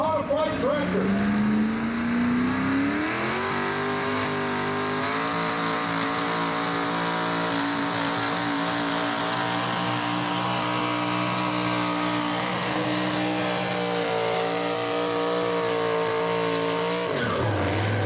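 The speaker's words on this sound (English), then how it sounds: "on the line right now with the always creative single engine modified tractor" A single engine modified tractor roars down the track at a tractor pulling event, a loud sustained engine drone rising in pitch early on and holding, with an announcer talking over it.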